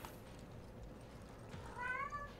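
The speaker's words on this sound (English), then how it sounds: "they make the deepest meows" A male cat gives a deep, drawn-out meow near the end, faint under steady game background noise.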